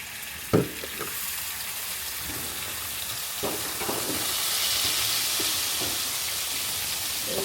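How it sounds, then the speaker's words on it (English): Flour and milk gravy is stirred in a hot pan, a steady sizzle and hiss running throughout with scattered scraping knocks of the utensil against the pan, close and fairly quiet. "So we're just gonna stir this all together"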